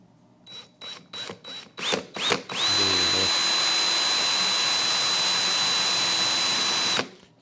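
A power drill with a small bit spinning up in several short whining bursts, then running continuously at a high steady pitch for about four seconds before stopping abruptly, close and loud.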